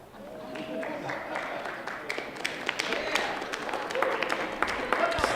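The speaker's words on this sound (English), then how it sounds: "Turn to the supporter, your faculty and parents, and give them a round of applause." Scattered clapping builds into steady applause from an audience at a college graduation ceremony, mixed with crowd murmur and a few brief voices, growing slightly louder over several seconds.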